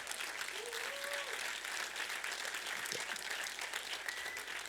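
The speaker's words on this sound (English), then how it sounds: "get a quick round of applause for them" Conference keynote audience giving a quick round of applause for people standing up, a fairly distant, steady patter of clapping with a faint voice or tone briefly heard underneath.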